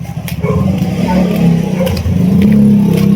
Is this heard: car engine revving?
yes